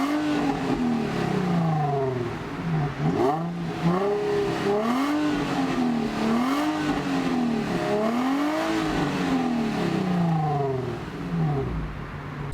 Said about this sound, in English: So that's the beautiful note of the G35 stock